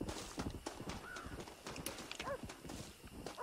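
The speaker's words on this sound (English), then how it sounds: "I hear horses." Horses in the Red Dead Redemption video game clip-clop at a steady gait, with a brief neigh, under faint outdoor ambience and no talking.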